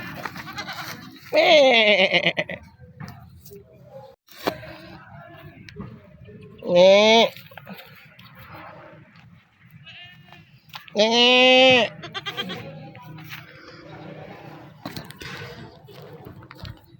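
Goats bleating on a farm during a harvest, several loud wavering bleats in separate bursts with quiet gaps between, close by, with people talking in the background.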